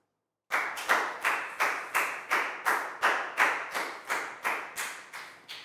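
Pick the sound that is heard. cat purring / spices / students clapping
students clapping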